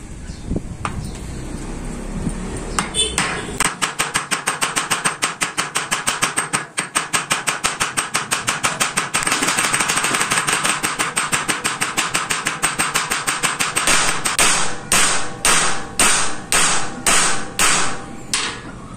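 Dense run of sharp, evenly spaced hammer blows setting rivets into a motorcycle clutch housing, loud and close, speeding into a steady rapid rhythm before spacing out toward the end.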